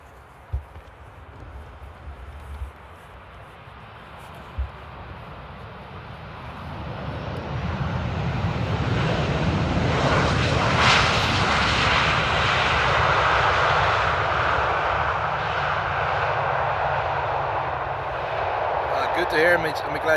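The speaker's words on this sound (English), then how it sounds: "Aeromexico, by the way, is the second plane." An airliner lands at Amsterdam Airport, its engine roar swelling from a low rumble to a loud, sustained wash at mid-clip, then holding steady with faint talk underneath.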